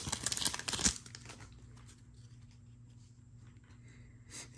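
A foil pack of 2022 Select Basketball trading cards is torn open with a brief, loud burst of crinkling and ripping. A quiet background hum follows.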